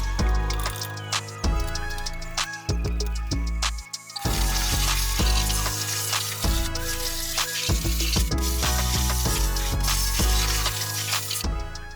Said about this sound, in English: then hit it with the power washer